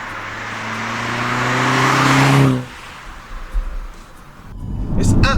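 Audi S3 quattro with a turbo engine accelerating hard on a country road, its loud rising roar building for over two seconds before cutting off sharply, then a quieter rumble and a renewed surge.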